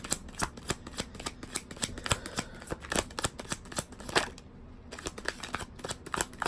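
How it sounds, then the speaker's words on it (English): Tarot cards being pulled and shuffled from a deck: a quick run of crisp card snaps and flicks close up, with a short pause near the end before the card handling resumes. "Let me just pull out a card on the destiny."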